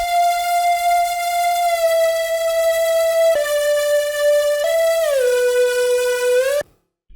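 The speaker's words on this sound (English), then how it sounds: "I've loaded in two leads and they're both distorted kind of leads" A distorted synth lead in the future bass style plays sustained, harmonically rich notes that step down twice and then glide lower, loud and alone before cutting off abruptly.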